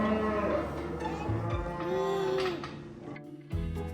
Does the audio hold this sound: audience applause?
no